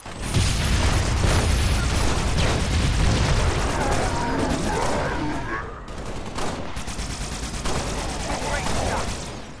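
Grenade explosions and bursts of gunfire from the video game Halo: Spartan Assault, a loud, dense barrage of booms and rapid shots that fills the whole stretch and eases slightly toward the end.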